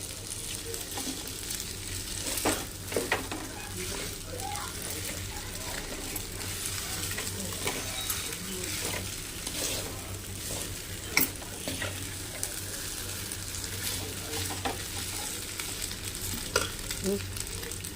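Onions soften in a pan over low heat, a quiet, steady sizzle with sparse light taps and occasional spoon clicks, faint and close, with no talking.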